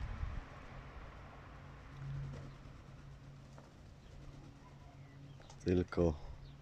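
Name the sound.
Budapest pigeons cooing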